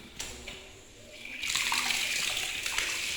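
Hot spring water at the Bayanan hot-spring bathhouse starts running after a quiet moment, becoming a steady, close rushing flow like a tap filling a tub, continuing to the end.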